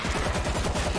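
Rapid automatic gunfire in the zombie shooter World War Z, a fast, evenly spaced string of close, punchy shots.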